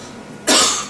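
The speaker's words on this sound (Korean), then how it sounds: "목에서 기침." A single sharp cough bursts out loudly and close, then fades after a brief moment.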